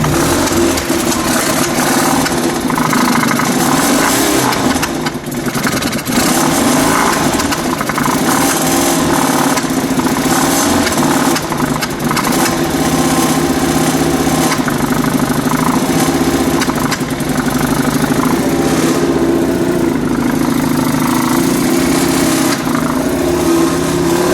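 A 1957 Berkeley Sports SE328 car engine idles steadily and loudly up close, a continuous buzzy running note with slight rhythmic variation throughout.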